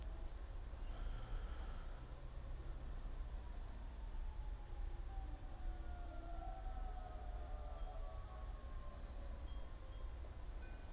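A siren wails somewhere in the distance, its rising and falling tone faint beneath a steady broadband hiss of background noise.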